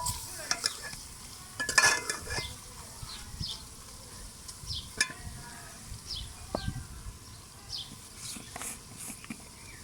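Bitter gourd cooking with turmeric in a frying pan is stirred, with soft irregular scrapes and clicks over a faint sizzle, close by and moderately quiet, with no talking.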